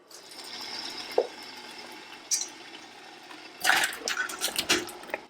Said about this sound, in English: we'll rinse off any dirt and debris that might be on them from the garden